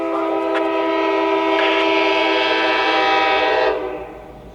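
A loud, sustained train horn blares for several seconds and then fades, with the rumble of a freight train led by a pair of Canadian National locomotives passing beneath it.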